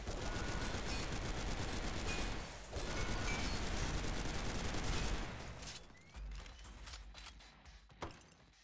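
Sustained, dense video-game gunfire in the shooter Synthetik, rapid overlapping shots and bursts loud for about five seconds, then thinning into scattered sharper shots and mechanical clicks toward the end, with no talk.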